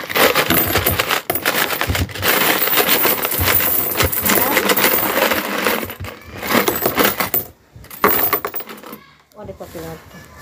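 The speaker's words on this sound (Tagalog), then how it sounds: "Lahat to ay 5, 10, and then yung 20 na barya." Coins of 5, 10 and 20 peso denominations from a savings stash dropping and clinking together, a dense loud metallic jangle running almost continuously with brief pauses near the end, close by.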